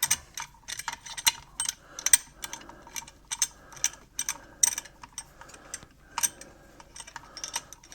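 A C-clamp is cranked to push back the brake caliper pistons on a 2011 Chevrolet Impala, giving close, rapid bursts of ratcheting clicks with brief pauses, loud and crisp with no talking.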